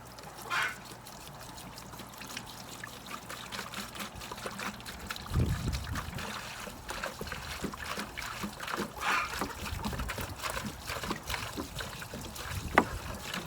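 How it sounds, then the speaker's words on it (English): Gallon of white vinegar poured into a pail of new Duke 550 Pro coyote traps, a steady trickling and splashing pour with quiet handling noises. "we just want to pour in a gallon of the white vinegar"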